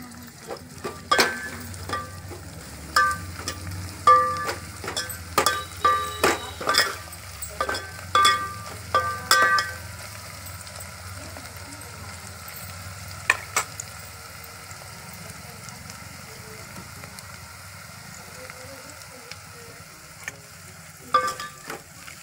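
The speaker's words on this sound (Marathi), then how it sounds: "याच्यात टाकून घेतो आता लसूण" Coarsely crushed garlic dropped into hot oil in a pan while cooking masale bhaat with fresh pigeon peas: a soft steady sizzle under repeated sharp scraping and clinking of a spoon stirring, the stirring thinning out toward the end, no talk.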